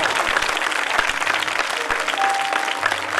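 Congregation at a church worship service claps loudly and steadily in sustained applause to welcome a speaker, a dense wash of hand claps filling the room.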